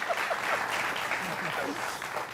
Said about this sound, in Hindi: ताली वाली बजाओ यार